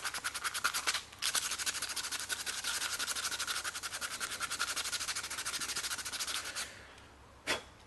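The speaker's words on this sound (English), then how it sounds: "you'll notice I only sand one side of the spoon, and then I'll rotate it around and sand on the other side." A hand-carved wooden spoon is hand-sanded with fast, rhythmic rasping strokes, loud and close, with a short pause near the start and a brief break before the strokes finish.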